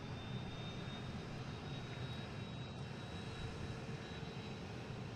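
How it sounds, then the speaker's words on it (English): A Cessna Citation business jet passes at Boston Logan International Airport with a faint, steady engine roar and a thin high whine that holds throughout, with no voices. "There is a Cessna Citation going to Cleveland"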